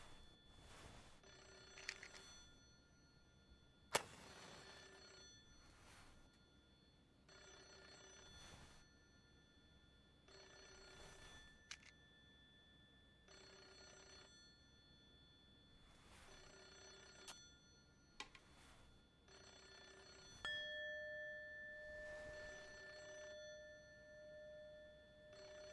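A telephone rings repeatedly in the horror video game Hollow Cocoon, a steady series of electronic ring bursts with short pauses between them, faint and alone, with a few sharp clicks and a tone near the end.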